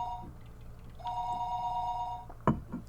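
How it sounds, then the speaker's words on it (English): An old-style telephone rings in the visual novel game Higurashi When They Cry: Watanagashi, a bright electronic trill sounding in two bursts with a brief gap, followed by a couple of soft knocks near the end. "The phone rang and I didn't know where the call was coming from."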